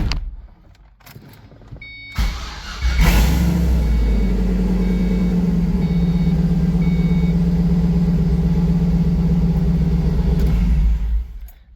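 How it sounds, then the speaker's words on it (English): An LS-swapped Ford Mustang on an old battery cranks and catches, a steady loud engine drone settling in after a brief start, with faint electronic beeping in the background and no talking. "it cranks up way better now"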